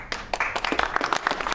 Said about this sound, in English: they're applauding the fact that he was able to carry out a phone call